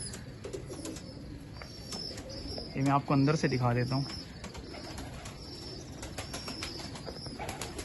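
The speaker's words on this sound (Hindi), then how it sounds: "बहुत सारे कबूतर हैं हाजी साहब के।" Many breeding pigeons on a rooftop loft coo in a low, throaty burst mid-clip, with wing flaps and faint chirps throughout, while someone talks nearby.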